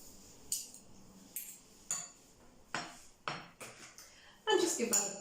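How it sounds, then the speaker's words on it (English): A utensil mashes avocado and Greek yogurt together in a bowl, giving a few separate clinks and scraping knocks against the dish, ending in a louder cluster of clatter. "just give that a quick mash up together"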